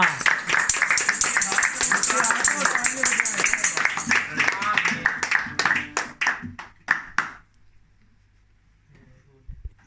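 A congregation claps hands at a thanksgiving prayer meeting. The dense, lively clapping runs steadily for several seconds, then thins to a few scattered claps and falls into near silence.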